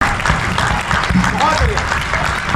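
Audience applause at a Hindi kavi sammelan poetry gathering, a steady dense patter of many hands clapping throughout, with voices mixed in underneath.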